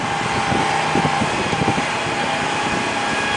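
An air compressor runs at a tower scaffold site, giving a steady, unbroken mechanical drone with a faint tonal hum and light wind noise throughout.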